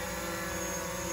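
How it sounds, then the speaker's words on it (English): A small drone flies close overhead, its steady motor whine holding unbroken and fairly loud for the whole short stretch, with no voices. "Daddy is doing the drone."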